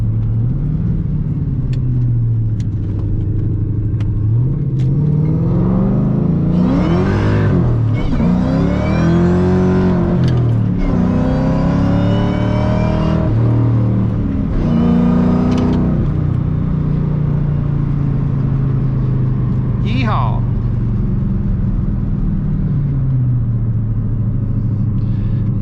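A Ford Mustang GT with a 2-valve V8 revs while driving on a road. Its deep rumble climbs in several loud bursts of acceleration, then eases back between them.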